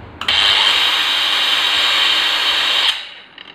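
A Dewalt DWE 4377 variable speed angle grinder runs with a loud, steady, high-pitched motor whine for about two and a half seconds, starting abruptly and then winding down.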